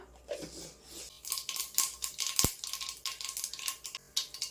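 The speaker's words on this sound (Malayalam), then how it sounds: "കടുക് പൊട്ടിയിട്ടുണ്ട്" Mustard seeds crackle in hot oil, a quiet, close run of sharp irregular pops and spits with one louder crack partway through.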